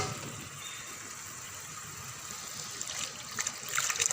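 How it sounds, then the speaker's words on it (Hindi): Water poured into chicken kofta masala paste in a pan gives a steady broadband trickle and gush, getting louder and splashier toward the end, with no talk. "अब हम इसमें पानी ऐड करेंगे।"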